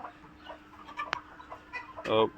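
Desi chickens cluck on a farm shed in Raozan, Chattogram, with a few scattered soft clucks and one louder harmonic call near the end, over low background noise.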